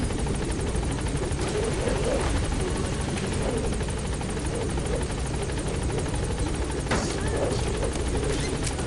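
The Pequod helicopter arrives at a landing zone in Metal Gear Solid V: The Phantom Pain, a steady, fairly close rotor thump and engine drone that continues without a break.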